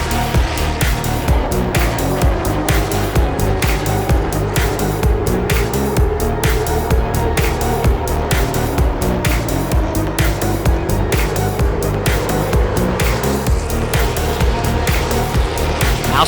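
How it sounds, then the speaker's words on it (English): Race cars circle Kingsport Speedway during a night short-track race, a steady loud engine roar with crowd and PA wash blending into a continuous dense din throughout, no clear gaps or single pass-bys. "Helton and Housewright would make contact in the corner not once, not twice, but 3 times over the next few laps"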